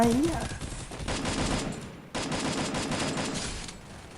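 Rapid automatic gunfire from the Free Fire video game, loud and close, runs in dense continuous bursts with a short break midway, and a voice briefly sounds at the start.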